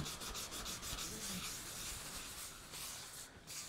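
Continuous close-up rubbing of wet sandpaper over wood while applying Danish oil, quick repeated strokes, a steady gritty hiss with no talking.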